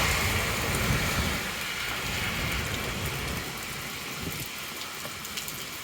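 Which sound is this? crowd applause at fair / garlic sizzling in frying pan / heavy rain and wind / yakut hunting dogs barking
heavy rain and wind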